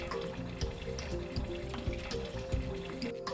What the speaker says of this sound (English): Rinse the device with warm tap water for a minimum of 1 minute.